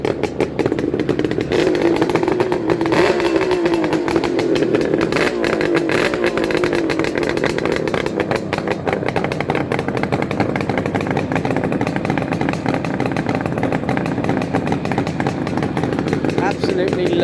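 A Suzuki GT380 motorcycle engine, started from cold, runs at a steady idle with a raspy, clattering two-stroke tone up close, heard under a voice.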